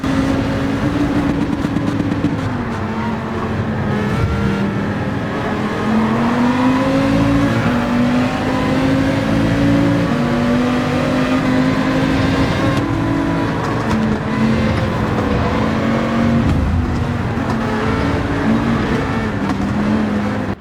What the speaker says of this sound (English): We are in the Dodge Viper today for this race